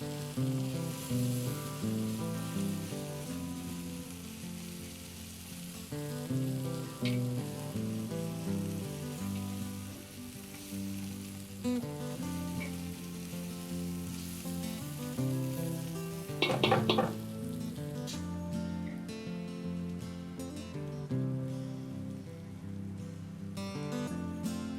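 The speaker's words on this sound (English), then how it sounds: "Tomato paste will burn, so you do need to stir it in." Vegetables and tomato paste sizzle steadily in a hot pan as they are stirred, a continuous crackling fry with a brief scraping clatter partway through.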